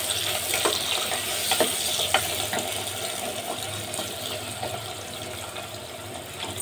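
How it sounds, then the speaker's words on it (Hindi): Onions fry in a pan for Indian chole, giving a steady, soft sizzle and crackle with occasional louder pops, heard close and continuous without talk. "प्याज फ्राई हो रहा है"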